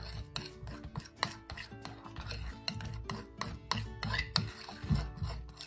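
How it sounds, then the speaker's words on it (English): Blue slime mixture with glitter and baking soda being stirred by hand, a steady run of wet scraping and clicking strokes against the mixing bowl, close and fairly loud, with no talking. "Mix this in with it."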